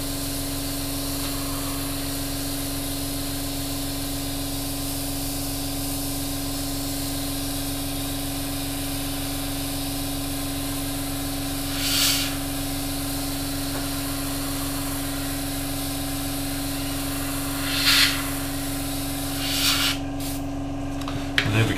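Airbrush hissing steadily as it sprays paint to pre-shade a wing of a Hasegawa 1/32 P-40 model kit, a continuous even spray with a few brief louder bursts near the end.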